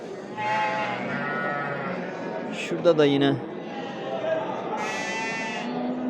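Sheep and lambs bleat repeatedly at a livestock market in Göksun, Kahramanmaraş, several overlapping calls near and mid-distance while someone talks throughout.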